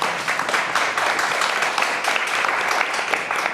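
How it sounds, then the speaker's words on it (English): Townhall audience on education applauding a speaker, a dense, even patter of many hands clapping at moderate loudness for a few seconds, with no talk over it. "if you guys can give him an applause"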